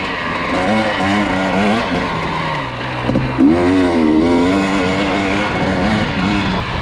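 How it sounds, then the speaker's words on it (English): A 2020 KTM 250XC TPI two-stroke dirt bike is ridden on a trail, its engine buzzing and revving up and down close by with wind noise throughout. "bike feels light and nimble coming off of 450."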